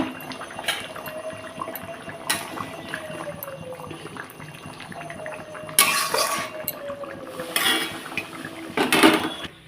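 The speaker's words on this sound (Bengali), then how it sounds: "ঝোলটা পুরো টকবক করে ফুটে গেছে মাছগুলো ছেড়ে দেবো" Puti fish curry broth bubbles in a pot on the stove, a soft simmering wash broken by sharp clinks and clatters of utensils against cookware, with no talk.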